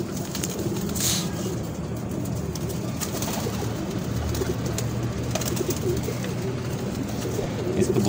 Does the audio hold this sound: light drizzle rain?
no